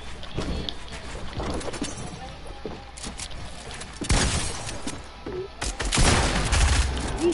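Video game gunfire crackles in rapid bursts, with scattered shots and then two louder, denser volleys near the end, all heavy and close.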